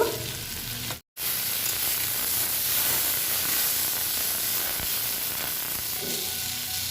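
Prawns fry in a hot pan with a loud, continuous close-up sizzle and hiss that cuts out for an instant near the start, then carries on unbroken.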